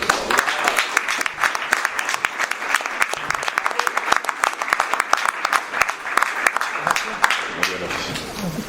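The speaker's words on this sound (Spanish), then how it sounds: "Así que un fuerte aplauso para ellos." At a talk on workers' organizing and repression of combative youth, an audience breaks into dense, sustained applause, many hands clapping rapidly and evenly throughout.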